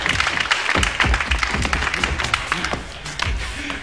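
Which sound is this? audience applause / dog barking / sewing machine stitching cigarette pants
audience applause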